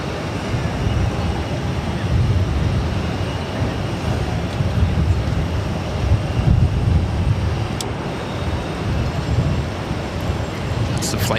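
An airliner departing Boston Logan for San Diego, a steady broad engine rumble holding at a constant, fairly loud level throughout, with no voices over it.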